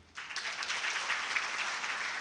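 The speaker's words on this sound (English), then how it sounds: "And let's give them a clap." An audience at a Chinese-language community event breaks into steady, fairly faint applause that starts abruptly and continues evenly at a distance.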